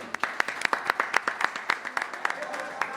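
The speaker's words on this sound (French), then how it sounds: "Est-ce qu'on peut applaudir pour Stéphine?" A small audience claps for a young radio host on stage, with sharp individual hand claps that spike irregularly among a thinner background of applause, close and clear.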